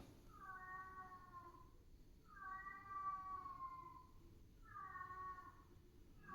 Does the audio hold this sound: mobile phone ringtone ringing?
no